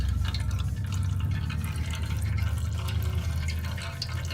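Oil draining from the oil filter area of a 2007-2012 Nissan Altima 2.5L, a steady close trickle and drip of liquid running continuously without pause and with no talk over it.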